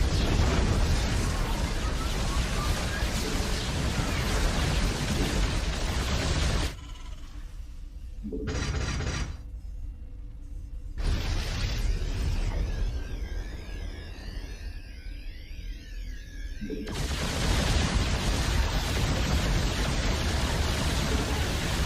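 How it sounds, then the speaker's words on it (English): Heavy booming blasts from Yamato cannon shots in the real-time strategy game StarCraft 2, a dense roaring explosion that drops out briefly for quieter game effects and chimes before a second loud roaring burst. "Hit him with the Yamato cannon. A couple of shots from that'll flatten anything."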